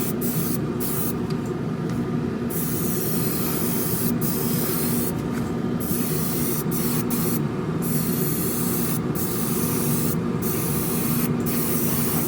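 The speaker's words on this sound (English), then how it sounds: "I'm having to pull back further on the trigger to get enough clear coat to wet it out." Airbrush spraying clear coat onto a Revell 1968 Pontiac Firebird 400 scale model car, a steady close hiss running continuously throughout with brief dips as the trigger is eased.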